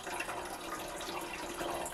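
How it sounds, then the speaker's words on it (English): Water poured steadily into the refill opening of a closed humidifier, a continuous close splashing and trickling that holds at even loudness throughout. "you can actually just pour water in here"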